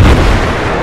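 An explosive detonation in Battlefield 4 lands as one loud, close, booming blast that fills the whole moment, with no voices over it.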